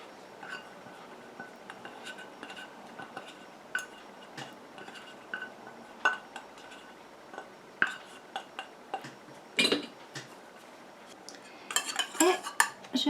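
Utensil clinks and scrapes sound against a bowl as oil and water phases of a jojoba bead face scrub are stirred together. The taps are quiet and irregular, growing busier and louder toward the end.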